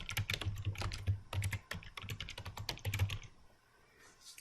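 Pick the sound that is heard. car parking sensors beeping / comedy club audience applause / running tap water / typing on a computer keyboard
typing on a computer keyboard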